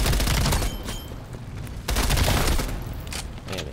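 Dense bursts of rapid automatic gunfire from the Call of Duty Cold War video game, loud and close, coming in two heavy waves with short pauses between them.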